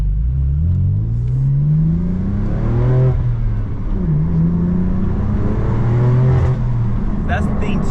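A BMW M4 F82 with a manual gearbox and loud exhaust in Sport Plus mode revs hard while driving, heard close up, its engine note climbing and falling in repeated sweeps over a continuous rumbling roar.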